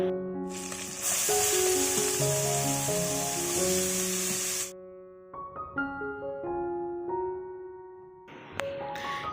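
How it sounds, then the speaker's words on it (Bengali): Chopped ash gourd tipped into a hot pan of tempering sets off a sudden loud hissing sizzle that holds for several seconds and then fades, with melodic music playing throughout. "এরপর কেটে ধুয়ে রাখা চাল কুমড়োগুলো এর মধ্যে দিয়ে দিতে হবে।"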